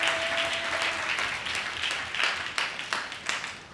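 A church congregation at a Sunday service claps together, dense steady applause with sharper bursts toward the end, moderately loud and filling the room.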